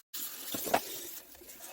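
Hot pressurized tap water gushes into a sink, rinsing the lid of a Ninja Creami: a steady close splashing stream after a brief silent start, fairly soft, with no voices.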